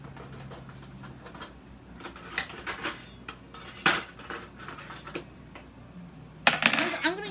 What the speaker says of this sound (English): I'm gonna use a fork this time. I'm gonna just stir.